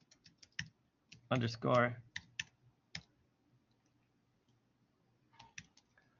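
Computer keyboard typing: scattered, close key clicks in short bursts with pauses between, plus a brief spoken phrase partway through and a few more taps near the end.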